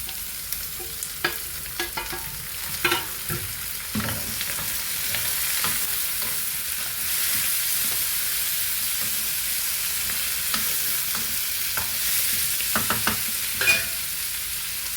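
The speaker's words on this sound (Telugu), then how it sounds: "చూడండి, ఉల్లిపాయలు బాగా వేగాయండి." Onions fry in a pan with a continuous nearby sizzle, broken by scattered spatula scrapes and taps.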